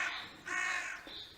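A voice imitates a crow's caw during a small-class children's theater play, giving a few harsh, nasal caw-like calls in quick succession, close and clear.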